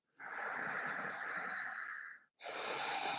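Slow, deep breaths during a yoga flow, a long, airy exhale of about two seconds that stops briefly, then another breath starting right after, close and clear with no talking.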